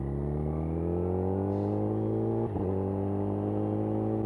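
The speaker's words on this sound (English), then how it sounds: "doing your best to squeeze the clutch in, get it in gear, and get going" A motorcycle pulls away in gear, its engine revving up steadily and loud at close range, with a brief dip partway through like a gear change before it climbs again. No one talks.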